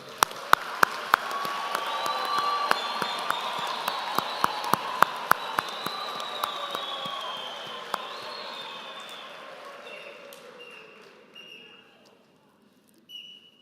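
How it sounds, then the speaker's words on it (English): A crowd at a university graduation ceremony claps steadily, with sharp individual claps standing out, then gradually thins and fades to near silence, with faint whistles or cheers mixed in. "let us give the graduates a full round of applause."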